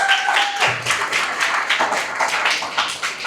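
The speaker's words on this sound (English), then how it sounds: "Everyone give them a round of applause." Audience applause for people celebrating birthdays at a college job-skills talk, a few seconds of scattered, moderately loud hand clapping in a large room.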